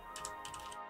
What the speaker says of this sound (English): Typing in Japanese.